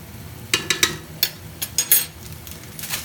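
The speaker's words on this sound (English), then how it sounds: "Stir it up very well." Ramen noodle carbonara is stirred in a pan, a quick run of close scraping and clattering utensil strokes over a faint sizzle, with no talking.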